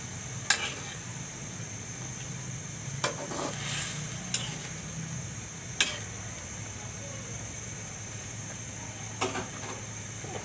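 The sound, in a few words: cooking jackfruit seed curry with fish roe and hilsa in pan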